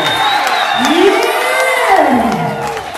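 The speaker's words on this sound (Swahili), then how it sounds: "Pigia Bwana Yesu makofi na kanisa" A church congregation claps and cheers loudly for Jesus, a dense crowd roar with whoops and shouts rising and falling for several seconds, with a voice calling out over it.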